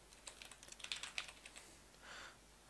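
Quiet, quick keystrokes tap on a computer keyboard in an irregular burst, with a few louder clicks, then a brief soft rustle near the end.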